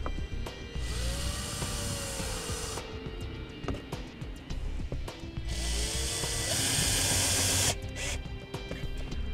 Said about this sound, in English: To mount it, we'll use the screws provided with the install kit.